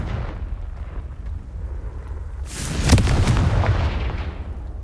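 Confringo fire spell blast in the video game Hogwarts Legacy, a sudden booming burst over a low rumbling game backdrop, with crackling fiery tail decaying over the following seconds.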